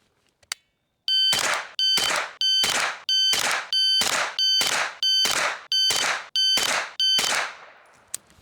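Shot timer start beeps on an AR rifle range, ten loud identical electronic tones with harmonics repeating about every 0.6 seconds, each followed by a ringing decay, after a brief click near the start.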